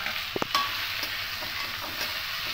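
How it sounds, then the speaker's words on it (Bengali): Boiled potato pieces stir-fried in oil for samosa filling, a steady close sizzle with a few sharp utensil knocks near the start, no talking. "দিয়ে খুব ভালো করে এটাকে তেলের সঙ্গে মিশিয়ে একটু কষে নেব"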